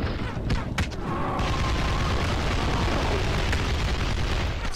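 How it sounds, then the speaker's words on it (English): Explosions burst from a dragon being shot in the blocky video game Castle Miner Z, giving a sustained loud rumbling roar with a few sharp pops early on and no speech. "it keeps exploding whenever I shoot, like, fire or something shoots off it"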